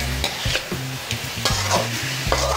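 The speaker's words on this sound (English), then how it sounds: "Start to stir it again." Frog pieces frying in a hot pan for a fried hot frog dish, a steady close sizzle with repeated stirring scrapes, no talk, under background music.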